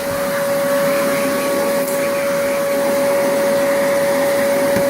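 A Sears Craftsman 5-gallon wet/dry shop vacuum runs steadily and loudly up close, with a constant motor whine and rushing airflow and no break in the sound.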